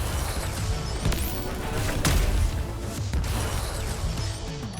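A Reaper cannon fires from a ship in Space Engineers, loud heavy crashing blasts with a few sharp impacts standing out among a dense, rumbling mechanical roar that carries on throughout.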